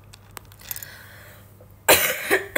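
One sharp, close cough bursts out during a casual live stream, following a stretch of quiet room noise and a few faint clicks.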